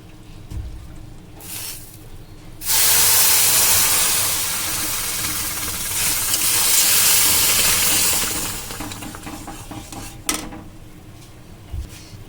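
A bowl of water poured onto hot semolina fried in oil sets off a loud, sustained burst of hissing steam lasting several seconds, fading gradually, with a few clatters of the pan before and after.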